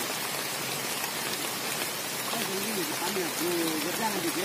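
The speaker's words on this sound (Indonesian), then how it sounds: "Hujan kawan-kawan, hujan deras." Heavy tropical downpour heard from shelter under a banana tree: a dense, constant hiss of rain striking surfaces, with people talking over it in the second half.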